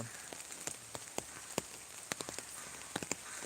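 Faint, steady rain patters in the background over village trees, with scattered sharper drips tapping irregularly on a nearby surface.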